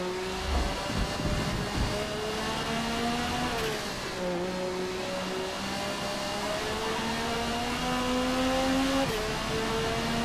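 Race car engine on a fast lap of the Yas Marina Circuit in an F1 racing game, a steady loud whine climbing in pitch, dropping at gear shifts, then climbing again without pause.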